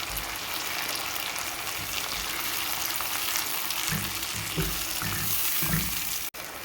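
Onion paste sizzles in a pan alongside translucent fried onions, giving a continuous close hiss of frying. Several soft stirring scrapes and a sharp click come near the end.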